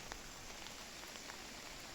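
Rain falls steadily as a faint, even hiss with scattered soft patters of drops, no other sounds over it.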